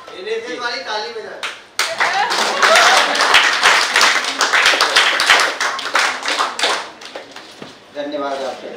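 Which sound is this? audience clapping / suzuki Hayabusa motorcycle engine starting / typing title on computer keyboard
audience clapping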